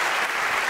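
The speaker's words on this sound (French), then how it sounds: "mais vous pouvez continuer à les applaudir." A conference audience applauds in a dense, steady burst of clapping that fills the whole brief moment.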